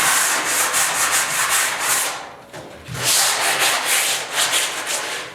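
A hand sanding block is worked back and forth over body filler on the bed of a 1972 Ford 4x4 short box truck, giving loud, close, rhythmic rasping strokes with a brief pause midway.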